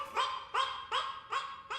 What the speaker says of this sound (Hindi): लग रहा है गली का कुत्ता है